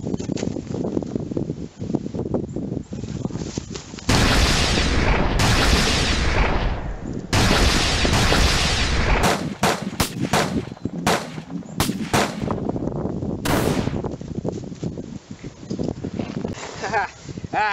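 Bursts of gunfire from attacking German troops in a battle scene, loud broadband shots and volleys arriving in irregular clusters, some long and rolling, others sharp and rapid, with shouted voices mixed in.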